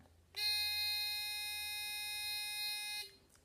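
A small short-circuit warning device for coaxial cable sounds its alarm as one sustained, shrill electronic buzz lasting under three seconds. It starts and stops abruptly, with near silence before and after.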